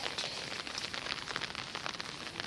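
Steady rain falls outdoors on a rainy day, a dense, even hiss of drops spread across the clip with no one speaking.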